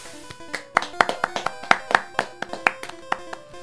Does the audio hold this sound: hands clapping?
yes